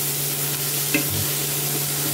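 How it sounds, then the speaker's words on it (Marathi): Spices and tomato sauté in a pan for lauki daal, a constant loud sizzle with one brief scrape of stirring partway through, close up with no voices. "आता ह्याला छान परतून घेऊया।"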